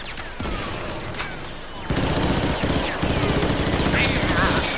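A shotgun blaster fires in Star Wars Battlefront 2 (2017 beta), loud blasts over dense battlefield gunfire and a sustained engine-like roar, with the din growing louder partway through.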